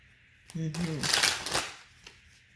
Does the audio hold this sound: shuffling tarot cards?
yes